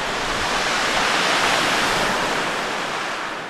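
Sea waves on the French Côte d'Azur give a loud, steady wash of surf that swells slightly and then eases, with no voices.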